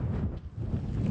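Gusting wind at Higger Tor in the Peak District buffets the microphone in a brief, low, rumbling rush, loud and close, with no voices.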